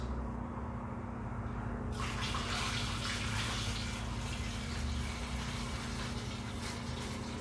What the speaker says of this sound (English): we're going to pour a little bit of this water into our carboys